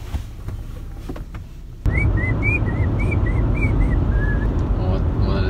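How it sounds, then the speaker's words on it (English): A person whistles a Beethoven melody inside a moving car, a run of clear rising and falling notes over steady road rumble, starting after a sudden jump in background noise. "What is that? Whistling."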